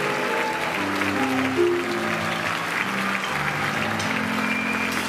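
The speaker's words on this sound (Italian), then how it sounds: "ha bisogno di sentire più forte l'applauso" Sustained audience applause at a big band Christmas swing concert, a dense, steady patter of clapping that carries on throughout at an even loudness, with faint tones underneath.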